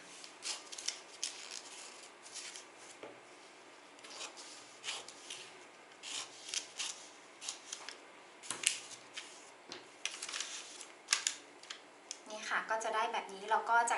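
Scissors snip and rasp through a paper sewing pattern for a dress, a steady run of close, crisp cuts and paper rustles, with a voice rising briefly near the end.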